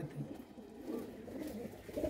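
Green-eyed racing pigeons coo in a low, continuous murmur, close by and steady throughout, with no talk over them.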